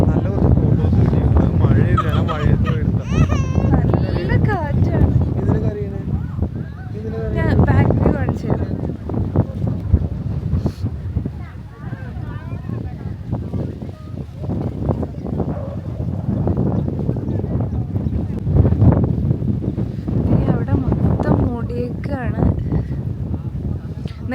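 Strong, cold wind on a misty hill road in Kerala's hills after rain roars and buffets the microphone in continuous gusts, while people talk underneath the blustery noise.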